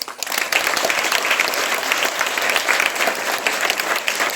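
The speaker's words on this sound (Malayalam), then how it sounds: "അദ്ദേഹത്തിന് നല്ലൊരു കയ്യടി നിങ്ങൾ കൊടുക്കണം." Audience applause at a Lions Club language programme at a school, a dense burst of clapping from a seated crowd, loud and sustained for several seconds with no talk over it.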